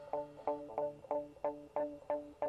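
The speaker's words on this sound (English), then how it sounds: "It's a Fender with an auto wah," Fender electric guitar through an auto wah playing a wah-wah part with a hi-hat, evenly spaced rhythmic plucked chords each opening with a vocal-like sweep, fairly soft and alone.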